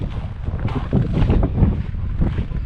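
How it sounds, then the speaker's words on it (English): Strong outdoor wind roars steadily into the microphone with gusty buffeting and rumble, loud and close, with no one speaking. "The wind's sure picking up."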